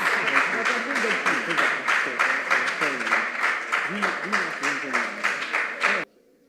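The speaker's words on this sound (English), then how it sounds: "Can we give them a beautiful round of applause, please?" Applause for the competing school teams at a junior high school quiz contest, with dense rhythmic clapping and background voices lasting about six seconds before cutting off abruptly.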